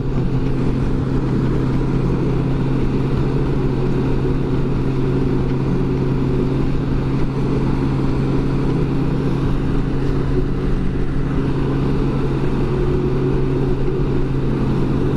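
Steady engine drone of a 2005 Honda GL1800 Goldwing silver anniversary base model motorcycle while riding, a constant low hum with wind noise running unbroken throughout, with no talking.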